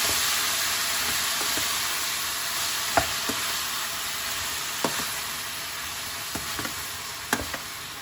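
Leeks stirring in a pan of hot oil, a steady sizzling hiss with a handful of sharp spoon taps and scrapes against the pan at irregular intervals.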